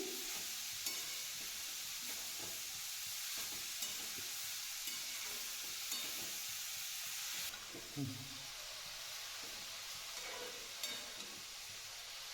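Grated carrot is stirred with ghee using a spatula for carrot halwa: a soft, quiet sizzle runs beneath a rhythmic series of scraping strokes against the pan, with a few louder scrapes toward the end.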